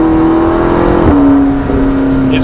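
A McLaren 650S Spider's engine drones loudly from inside the cabin during a test drive, its steady tone holding and then dipping slightly as the car pulls hard, with no talking.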